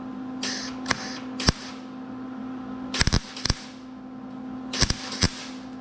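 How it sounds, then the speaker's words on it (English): A welder lays fill welds on rust repair metal on a 1966 Mustang, producing short bursts of sharp crackling clicks in clusters separated by pauses. "when you do fill welds like that on the metal, it puts more heat in the metal."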